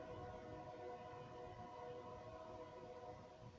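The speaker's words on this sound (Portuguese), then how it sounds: "É o trem passando. Ó, o trem gritando, né?" A train passing with a long, loud horn blast, the sustained tonal blare held over steady rumbling rail noise throughout, no talk.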